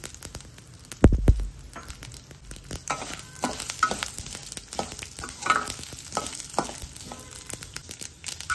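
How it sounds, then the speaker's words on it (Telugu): Urad dal, mustard seeds and fenugreek tempering in oil for gongura pickle: soft continuous sizzling and frying with stirring scrapes and an occasional clatter, close and moderately loud, no talk. "పోపు వేయించుకుందాం. కొంచెం నూనె వేసి ఇందులో కొంచెం మినపప్పు, ఆవాలు, మెంతులు,"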